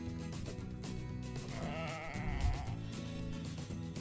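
A ram bleats at a pigsty pasture, its wavering cry rising once near the middle over steady background noise and a low hum, fairly close and moderately loud.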